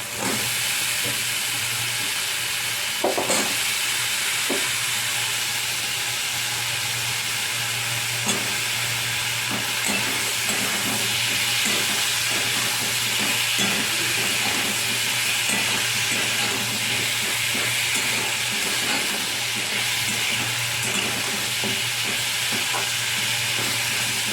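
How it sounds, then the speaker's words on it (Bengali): Pumpkin pieces sizzle and fry in hot spice masala, a steady broad hiss with stirring scrapes and light clinks running throughout, close and fairly loud with no talking. "মশলাটার মধ্যে কুমড়ো দিয়ে দিচ্ছি"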